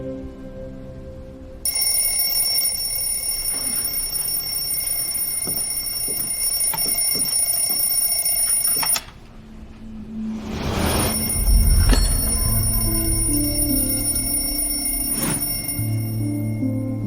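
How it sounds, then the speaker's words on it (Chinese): A bell alarm clock rings continuously and loudly for several seconds, stops briefly, then starts ringing again amid rustling and movement nearby. "我怎么会定这个时间的闹钟啊？"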